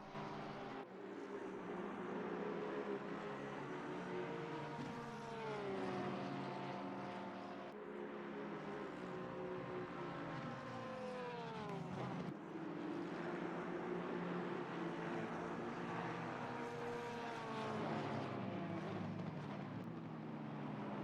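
Porsche and McLaren race cars in a sim racing game at the Nürburgring, their engines droning and sweeping up and down in pitch through gear changes, fairly faint and continuous.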